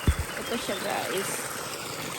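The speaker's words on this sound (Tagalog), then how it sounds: "Small waterfalls." Small waterfall in Switzerland with cold water flowing steadily, a soft continuous rush and trickle heard nearby, holding at the same low level throughout with no voices.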